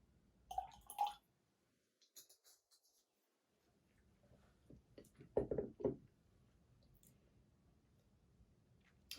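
Water is added to a glass of James Eadie Linkwood 11-year-old whisky: a few quiet, close trickles and small glassy clicks and knocks in short bursts, with near-silent gaps between them and no talking.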